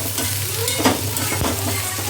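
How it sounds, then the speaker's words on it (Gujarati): Okra tempering in a hot pan of oil gives a steady, close sizzle, with stirring scrapes and a couple of brief clinks against the pan throughout. "આપણે જો અહીંયા શાકમાં ભીંડો વઘારી નાખ્યો છે"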